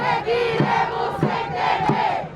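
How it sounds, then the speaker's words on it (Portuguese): Women at a pro-democracy protest in Brazil chant a jogral together, their voices rising and falling in steady rhythmic phrases over a dense crowd. "algumas apresentações, como esse jogral, feito por mulheres"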